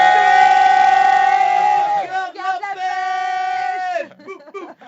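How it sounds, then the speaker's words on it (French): Dance team shouting a war cry together, a loud sustained group yell followed by shorter chanted bursts before it breaks off, close and dominant. "Un petit cri de guerre tous ensemble là pour la fin de l'émission."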